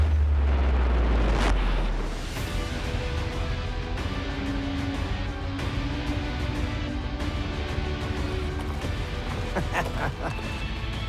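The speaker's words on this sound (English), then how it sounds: "no ultimate revisit would be complete without a bomb-proof kaboom." A bomb detonates on an outdoor test range, opening with a heavy low boom that fades within a couple of seconds into a long rumbling, crackling aftermath with scattered debris and rustling noise.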